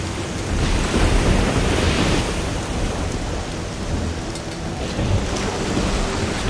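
Heavy rainstorm with rolling thunder in the video game Risen 2: Dark Waters, a loud, dense wash of rain and low rumbling that continues unbroken throughout, with no voices.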